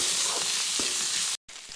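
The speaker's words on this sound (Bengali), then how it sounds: "ভেজে নেব মশলাগুলির সঙ্গে টমেটোর সুদ্ধা। সব কিছু ভেজে নিচ্ছি কিছুক্ষণ।" Spices and tomato frying together in a pan for egg pasta, a dense, close, continuous sizzle with soft stirring taps, briefly cut off for an instant before resuming.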